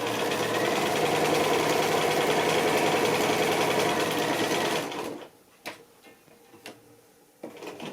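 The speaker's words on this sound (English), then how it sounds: "when you start sewing, when you're piecing, leave your needle down, and you sew right to the edge" Sewing machine stitching fabric for paper piecing, a loud steady whirring run for about five seconds that stops abruptly, followed by a few faint clicks and taps of handling.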